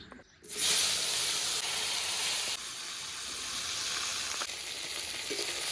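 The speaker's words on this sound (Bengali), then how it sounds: "এবার ওই একই তেলে এই যে বেগুনগুলো ভেজে নেব।" Eggplant pieces dropped into hot oil already used for frying fish, a sudden loud sizzle that settles into a steady close hiss continuing throughout.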